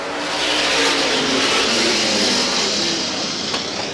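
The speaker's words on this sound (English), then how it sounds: "As we get set, here they come. Green flag, a restart." Race cars roar together as a pack at a short-track speedway, a dense, loud, continuous wash of engines accelerating on a green-flag restart, with a brief sharp click near the end.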